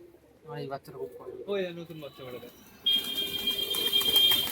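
Pigeons cooing in a home loft where many birds are kept, low rounded coos repeating near the microphone amid other household noise and a steady high tone in the second half.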